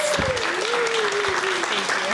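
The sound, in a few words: audience applause at guide dog graduation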